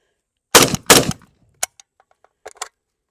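Two loud gunshots from a Draco pistol fitted with a metal magazine, fired in quick succession, followed by faint clinks and small handling sounds, with no talking.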